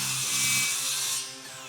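Circular saw cutting deck lumber at a carpentry build, a loud sustained whine with the blade running through wood, then easing off as the cut finishes near the end.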